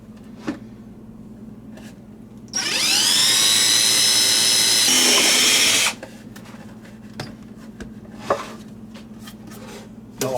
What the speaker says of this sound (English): we need to drill another 1/4 inch hole